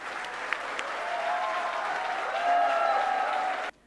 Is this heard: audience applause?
yes